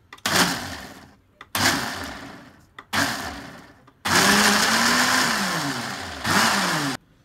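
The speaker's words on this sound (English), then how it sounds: "Whack it in the blender, and literally just pulse it for a bit." A blender motor runs in several short bursts, three quick pulses followed by a longer whirring run and a final short burst, loud and close.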